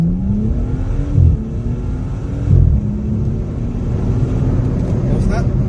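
A BMW M135i F20 with its gearbox in sport mode pulls hard on a timed acceleration run, a deep engine drone rising through short-shifted gears with brief dips at each change, steady and close throughout.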